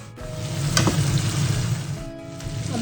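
Chicken pieces fry in oil over a low flame for chicken butter masala, turning lightly reddish. The sizzle stays steady and close, with a few clinks of stirring.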